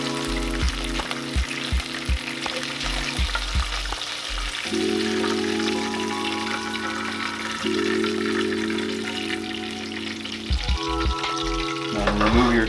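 Speckled trout fry in grease with a close, steady sizzle and crackle, broken by clattering and stirring knocks and a brief running tap, with no talk.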